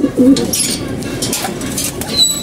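Male pigeons kept at rest in a home loft, a few soft low coos near the start over a quiet background, then faint rustling.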